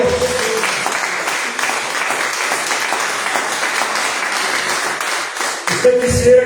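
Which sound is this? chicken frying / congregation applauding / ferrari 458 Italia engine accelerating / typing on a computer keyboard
congregation applauding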